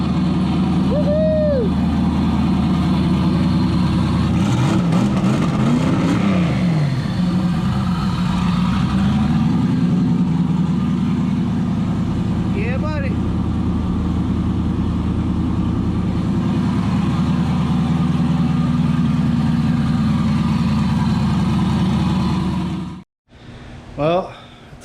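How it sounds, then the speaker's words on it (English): A street car engine runs and idles with a rough, uneven note, briefly revving in a couple of spots, close and steady for over twenty seconds before cutting out; someone speaks briefly near the end. "you guys saw the car was just running. So I had it running, I was revving it, and it just sounded funky, like there was a big miss to it"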